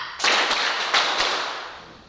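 A classroom group claps a four-beat ice-breaker pattern in unison, the sharp claps ringing with room echo in an uneven rhythm and fading into a reverberant tail.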